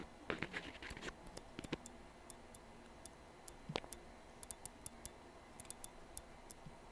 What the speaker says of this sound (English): here's what the vibration sounds like, or the clicking